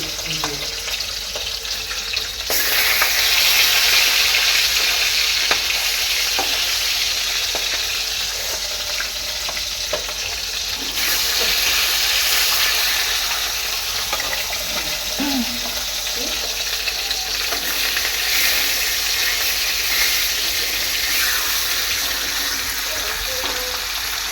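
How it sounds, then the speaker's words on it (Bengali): Steady, loud sizzling of fish frying in a hot pan, with occasional stirring clatter and faint running water in the background. "মাছগুলোকে ভাজা করলো তারপরে একবারে তরকারি করে আসছি"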